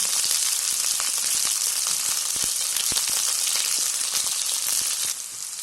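Chopped onion and capsicum fry in hot oil in a pan for chilli chicken, a loud, continuous close sizzle with scattered small pops and crackles throughout.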